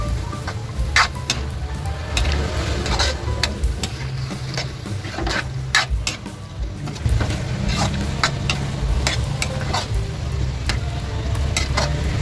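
Marinated chicken liver sizzles steadily in a pan while a utensil scrapes and taps against the metal in irregular strokes, close and clear.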